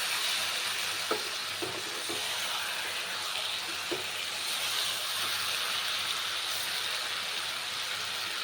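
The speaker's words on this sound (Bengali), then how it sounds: "মাংসটা এদিকে কষা হতে থাক" Meat for biryani fries in a pan, with a continuous sizzle broken by a few scraping strokes of the stirring spoon and no talk.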